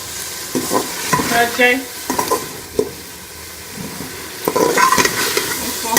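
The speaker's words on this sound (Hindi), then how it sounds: "अब इसके अंदर मैं ये चने डाल दूंगी और इसको भी हम मसाले के अंदर अच्छी तरह से भून लें" Chickpeas stirred and fried in a spice masala in a pan, giving a steady sizzle with repeated scraping stirs close by, while someone speaks briefly over the cooking.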